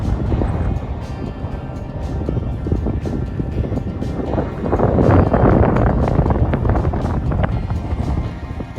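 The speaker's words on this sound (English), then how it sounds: "And consistently windy." Strong wind buffets the microphone in continuous rumbling gusts on a motorcycle trail in the Nevada, California and Oregon backcountry, swelling louder midway through, with no voices.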